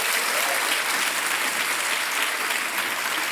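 A studio audience on the quiz show Kaun Banega Crorepati breaks into dense, even applause, loud and continuous for a few seconds with no talk.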